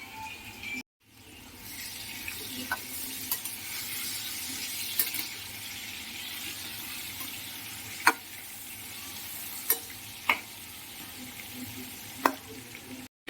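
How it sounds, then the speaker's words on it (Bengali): Potato pieces frying in hot oil with salt and turmeric in a small home kitchen, a steady close sizzle running throughout, broken by a few sharp clinks of a utensil against the pan. "এবার আলু ভেজে নেবো নুন হলুদ দিয়ে এবার আলুটাকে ভেজে নেওয়া হবে"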